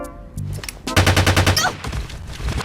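Cartoon gunfire in an animated scene: a loud, rapid burst of repeated shots, like a machine gun, with crackling impacts and a brief whistling effect, close and dominant over background sounds.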